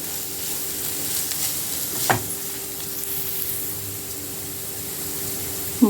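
Paneer cubes fry in a pan with a steady, soft sizzle, broken by an occasional scrape of stirring.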